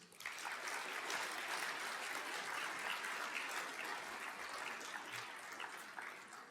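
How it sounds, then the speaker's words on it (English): Steady, moderately loud crowd applause for a school concert band at a primary school awards night, sustained hand clapping from a large audience throughout without a break, fading slightly near the end. "Could we please give them another round of applause?"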